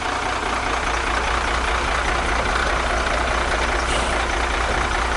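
CDL Class B straight truck pulling up slowly during a skills test, a steady, loud low engine rumble with broad noise, constant and close, with no voices.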